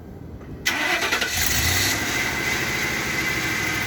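A car engine cranks and catches after a quiet moment, started by remote start with a Priority Start battery device, then settles into a steady, fairly loud idle close by.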